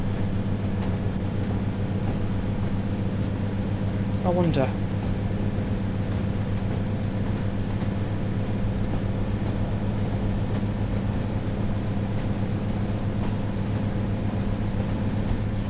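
Steady low diesel engine drone with a constant hum inside a moving Class 142 Pacer train between Ormskirk and Preston, a brief voice speaking once over the rumble.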